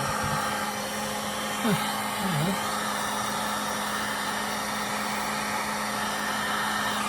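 A heat gun blows a continuous, even, whirring roar while heating a crankcase part of a Stihl 046 chainsaw, close and steady, with a brief clank of handling partway through and no talking.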